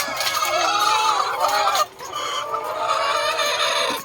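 Backyard chickens on a small Filipino farm make a loud, close flock of overlapping clucks and honking squawks, continuous apart from one brief dip, with no talking.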